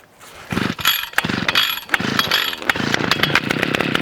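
ECHO SRM-410U brushcutter being pull-started: a few rasping bursts of the recoil cord and engine sputter catch, then the small two-stroke engine keeps running with a steady buzz, loud and close.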